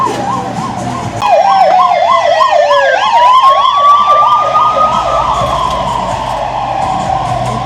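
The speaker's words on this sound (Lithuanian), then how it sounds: "Ten taip greitoji atrodė" An ambulance siren wails loudly on a Seoul street, close by and sweeping through fast rising and falling cycles before shifting to a longer steady tone as it passes, with no talking.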